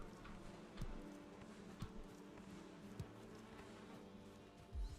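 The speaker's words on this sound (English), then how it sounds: "Yes, the bees are happy." Steady, faint bee buzzing around a beehive in a Viking crafting video game, a low continuous hum with a few soft thumps and clicks scattered through it.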